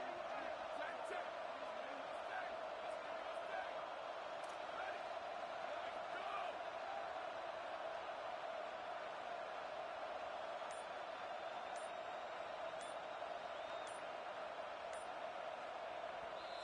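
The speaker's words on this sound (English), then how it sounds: "Tremendous crowd atmosphere now in the final minute of play." A dense, continuous roar from a packed college football stadium crowd in the final minute of play, steady and loud throughout with sharp pings and shouts over a commentator's voice.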